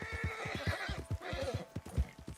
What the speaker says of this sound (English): The horse keeps freaking out.